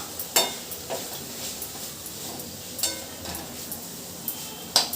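A spoon scrapes and stirs beetroot fry seasoned with chilli powder in a pan, giving a few sharp metallic clinks and soft scraping strokes over a faint sizzle, close and fairly quiet.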